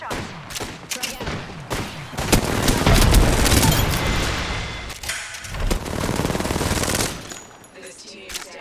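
Rapid automatic gunfire in the video game Apex Legends, loud bursts of shots rattling back to back with booming impacts, the firing nearby and nearly continuous throughout.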